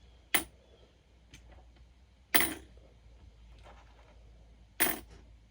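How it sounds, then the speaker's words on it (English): Coins clinking sharply three times against a pile on paper during a children's coin-counting craft activity, each crisp metallic click spaced about two seconds apart with quiet between. "when you're picking your coins out of your pile, remember to switch hands"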